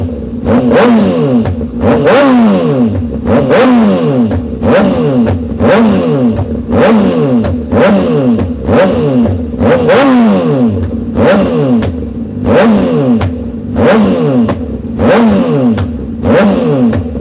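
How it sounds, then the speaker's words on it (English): Motorcycle engine fitted with a new air filter revving hard again and again, a steady run of loud, rising throttle blips with clattering mechanical noise between them, heard up close with no talk. "she revs up so easily now with this new friggin' air filter"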